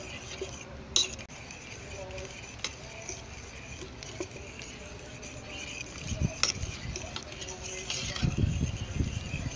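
A spoon stirs Jamaican-style banana porridge in a pot, giving quiet, scattered clinks and scrapes of metal at close range, with soft background noise and faint voices.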